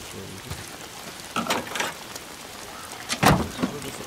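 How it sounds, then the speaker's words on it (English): Rain falling in the video game Days Gone, a soft steady hiss with scattered louder patters and splashes, faint and continuous with no voices. "Goddamn rain."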